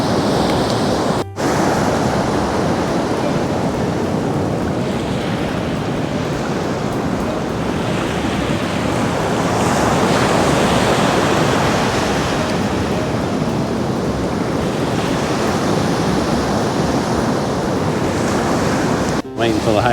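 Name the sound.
ocean waves on a Florida beach rolling shells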